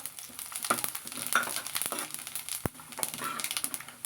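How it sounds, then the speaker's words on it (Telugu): Groundnuts and cumin frying in hot oil, a steady close sizzle with crackling pops and occasional stirring scrapes, fairly quiet and with no talk. "ఆయిల్ కాగిన తర్వాత ఒక స్పూన్ గ్రౌండ్ నట్స్ వేసి వేసుకొని అవి కొంచెం వేగిన తర్వాత కొంచెం జీలకర్ర"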